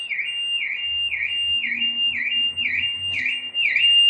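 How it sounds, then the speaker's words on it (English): A car alarm wails in a repeating up-and-down siren pattern in a Llandudno street, steady and fairly loud, with faint background noise and no talk. "There's some alarm going off there in the works."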